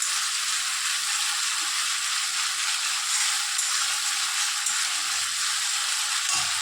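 Ginger and spices frying in an oil-filled pan for a vegetarian chana masala, a steady, close hissing sizzle that holds evenly throughout, with a faint stir or scrape near the end.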